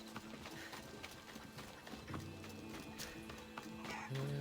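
A horse gallops in the video game Assassin's Creed, with steady clip-clop hoofbeats under a continuous game soundscape, close and moderately loud, no speech.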